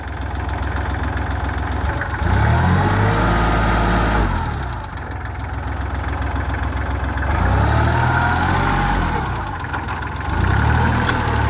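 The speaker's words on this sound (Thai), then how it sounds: "เสียงเครื่องดังนิ่มๆนะครับ" A 2008 Kubota L3408 tractor diesel engine running close by, a steady low knocking idle that swells into three louder, deeper pulses of revving before settling back, with no voices.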